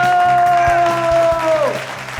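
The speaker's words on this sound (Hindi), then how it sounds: "जोरदार तालियां दोस्तों, क्या कमाल का परफॉर्मेंस था।" Applause from an audience after a stage performance on a television show, a steady dense clapping wash with a sustained tone fading out underneath.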